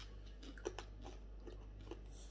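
Someone chews a crunchy Filipino snack close up, producing soft repeated bites and crunches over a low steady background hum, faint and without talk.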